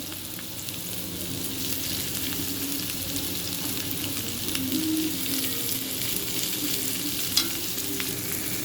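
Chopped onion added to a pan of frying bitter gourd and eggplant, giving a steady, even sizzle that holds close and constant throughout with a faint stir near the end.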